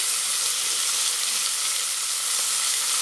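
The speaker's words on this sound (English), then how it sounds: "The bacon, of course, is cook it to your particular palate." Bacon fries in a pan with a steady, dense crackling sizzle that stays even throughout, close and uninterrupted, with no speech.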